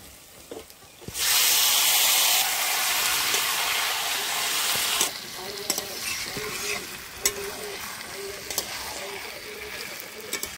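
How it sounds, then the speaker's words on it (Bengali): Marinated Khaki Campbell duck meat drops onto fried garlic in hot oil with a sudden loud sizzle, which softens after a few seconds into steady frying with repeated sharp spatula scrapes and clinks. "রসুন ভাজা হয়ে গেছে, এর মধ্যে এবার মেখে রাখা মাংস দিয়ে দিচ্ছি"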